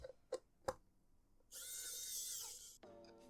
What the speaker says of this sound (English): Nice little electric screwdriver.